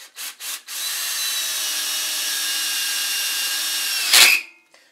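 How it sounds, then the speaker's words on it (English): A power drill with a 5/16 bit whines steadily for several seconds after a few short bursts, then bites into metal on a kart with a brief rising grind before stopping. "Alright, so I've got my 5/16 drill."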